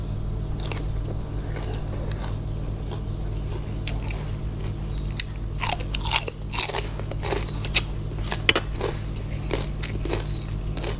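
Close crunchy bites and wet chewing of spicy pounded banana salad, irregular and up-close, over a steady low background hum, with no talking.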